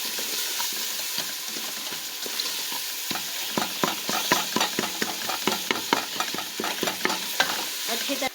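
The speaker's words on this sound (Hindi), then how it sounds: "और अब इसको भूनना है मसाले को।" Masala with turmeric frying in a pan, a loud continuous sizzle under quick rhythmic scraping strokes of a spoon stirring, close and busy.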